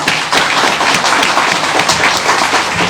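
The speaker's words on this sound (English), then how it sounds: "Let's give her another round of applause." Dense, continuous applause from an audience at a Memorial Day event, loud and close, a steady wash of many hands clapping with no talk above it.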